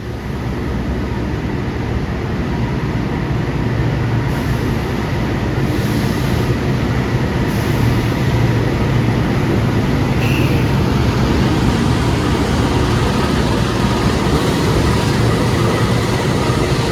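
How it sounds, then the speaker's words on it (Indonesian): The KA Pandalungan passenger train on the Jember–Jakarta line rumbles past, a loud, steady low roar of rolling wheels that holds for the full seventeen seconds. "Kereta kasta tertinggi Jember Jakarta, Jakarta Jember ya."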